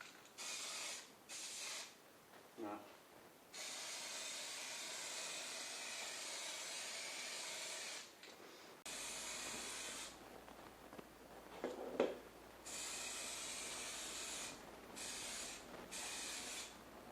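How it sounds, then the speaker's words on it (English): An aerosol can sprays flat matte black paint onto a Yamaha XV750 Virago motorcycle headlight rim, in several long, steady hissing bursts close by, separated by short pauses and light handling clicks. "I'm just using flat matte black just to spray it"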